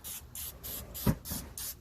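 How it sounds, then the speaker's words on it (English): Rapid short hisses of aerosol cooking spray over a cast iron grill, about seven quick bursts in a steady rhythm, close by with no talking. "We're gonna give a great little spray."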